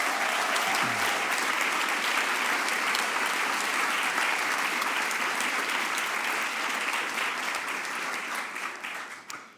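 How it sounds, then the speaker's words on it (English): A large audience at the European Forum Alpbach speakers' night claps for the jury in sustained, steady applause lasting nearly ten seconds before tapering off at the end. "I would kindly ask you to give a big applause for the jury of tonight"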